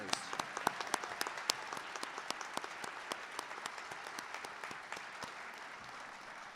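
Applause from a school ceremony audience honoring top ten percent seniors, steady clapping with distinct sharp claps standing out, moderately distant in a large hall, fading slightly toward the end.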